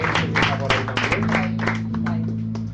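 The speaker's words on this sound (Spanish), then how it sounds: "Denle un aplauso a Damaris por esa oportunidad" Church congregation applauding for Damaris, a scattered burst of clapping with loud individual claps over a sustained musical drone from an organ or keyboard, with some voices mixed in.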